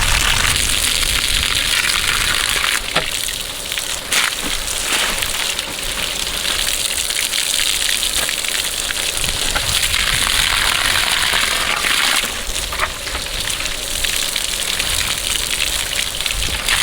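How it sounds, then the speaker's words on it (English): Water pours and splashes over a freshly cut piece of black walnut wood, a loud, steady rushing hiss that runs unbroken throughout. "We'll take it over to the water, wash it off"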